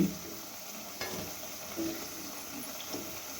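Onion pakoras (piyaji) fry in hot oil with a steady, soft sizzle, accompanied by a few light stirring scrapes close by.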